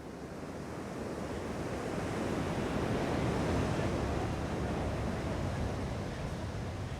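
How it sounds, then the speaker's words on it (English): Ocean waves surge and break against the metal border wall where it stretches into the sea on a beach near San Diego, a loud continuous wash of surf swelling in the middle with wind noise. "we're mesmerized by the way that the waves break awkwardly against the wall"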